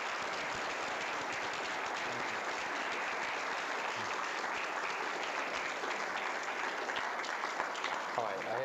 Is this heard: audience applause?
yes